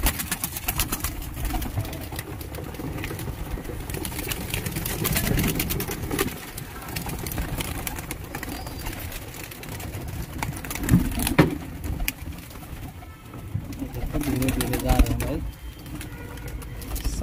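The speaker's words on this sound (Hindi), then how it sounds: "अब देखो मैं कबूतर भी अंदर करता हूँ और आप लोगों को दिखाता हूँ।" Domestic pigeons cooing and fluttering as they are moved into a loft treated with lime, a steady murmur of calls close by with someone talking over them throughout.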